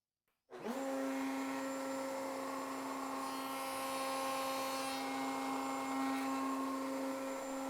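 A Kreg VTS router cutting a notch in a workpiece starts abruptly and runs at a loud, steady high-pitched whine with a constant tone from start to finish.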